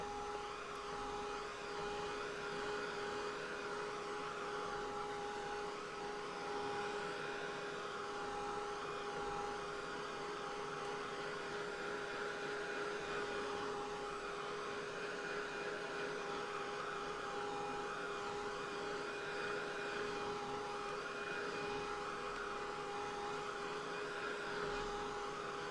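A hair dryer blows steadily on a wet watercolor painting of tall grasses, a constant close whirring hum with a high whine that runs unbroken and alone.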